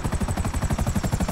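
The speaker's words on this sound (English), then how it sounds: "I don't know how to fly a helicopter, man." Helicopter in Grand Theft Auto flying with a rapid, pulsing rotor chop that repeats steadily and loudly throughout, close and continuous with no talk.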